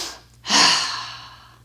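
Deep breath during a yoga stretch for golfers, a single long breathy exhale rising after a short pause and fading slowly, close and fairly soft with no talking.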